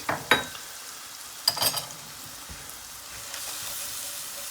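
Flour being cooked into a pan for a mushroom cream sauce, stirred with soft scraping clicks and a low steady sizzle, fairly quiet and close with no talk.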